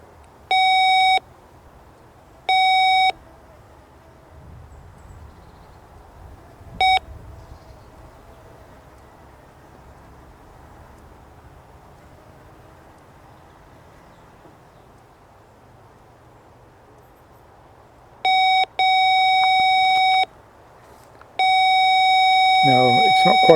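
Morse code beeps from an Arduino-controlled heliograph light-signal receiver: loud, steady electronic tones in short and long bursts, with a long silent gap between words. A faint background hum runs underneath.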